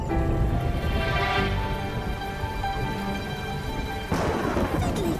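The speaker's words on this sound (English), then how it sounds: "It's raining!" Rain pouring steadily in a cartoon scene, a dense continuous hiss with a rumble of thunder underneath, building and then surging again near the end, with no voices.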